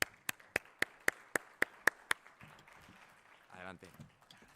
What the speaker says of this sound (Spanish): os pido un aplauso para los dos y que tomen el escenario